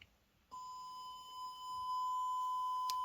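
A steady 1000 Hz square-wave test tone played from an Android phone through a digital-to-analog converter, sounding as a continuous pure beep that starts abruptly after a brief quiet moment and holds at an even level.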